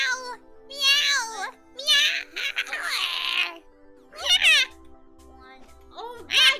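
A person mimics a cat with a string of high, drawn-out meows, several in succession with short pauses between them, sounding close and alone over a quiet background.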